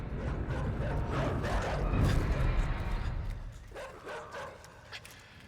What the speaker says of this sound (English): Dogs are just a lot louder than a lot of the other stuff.